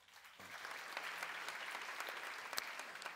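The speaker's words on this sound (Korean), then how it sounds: "박수 한번 쳐주세요" An audience at a church lecture breaks into steady applause that starts abruptly and continues evenly, with sharp individual claps standing out near the end.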